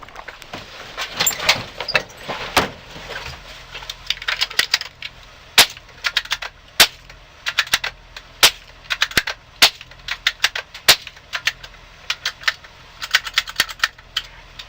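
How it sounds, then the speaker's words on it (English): Sharp cracking gunshots from a pickup aimed at roadside targets, fired in an irregular series of loud isolated reports with short gaps, some in quick pairs, over low background noise and no talk. "it's important that you shoot at almost everything you see on the side of the road"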